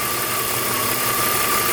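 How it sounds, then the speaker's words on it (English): BMW E46 M3 engine idling in place, a steady, even hum with a broad noisy wash and a thin constant high whine riding over it, unbroken throughout. "just leave the engine running."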